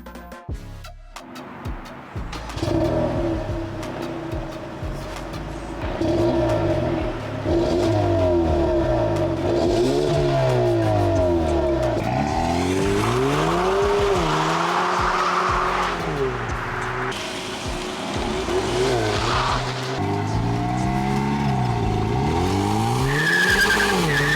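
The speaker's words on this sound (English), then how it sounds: "Driving the 2024 Hyundai Sonata N-Line is more impressive than I thought it would be." A 2024 Hyundai Sonata N Line is driven hard, its engine revving up and down through gear changes in repeated sweeps, with tires squealing under load, loud and close throughout.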